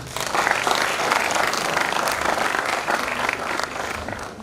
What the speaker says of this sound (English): Let's take a moment to express our deepest appreciation with a resounding round of applause for everyone who has contributed to this event.